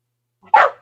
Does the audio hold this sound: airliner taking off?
no